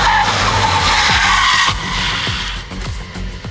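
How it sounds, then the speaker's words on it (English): Car tires squealing under hard braking in an ABS braking test, a loud continuous screech that fades partway through as the car slows, with rhythmic pulsing thumps beneath. "From outside, you had a more consistent squeal."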